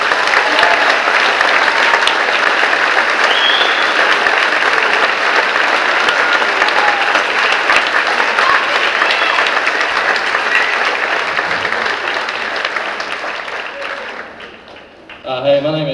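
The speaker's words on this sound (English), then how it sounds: "Let's give our seniors a big round of applause." A large audience at a spring choral festival applauds the seniors, loud and steady for about fourteen seconds before fading, with a voice starting to speak at the end.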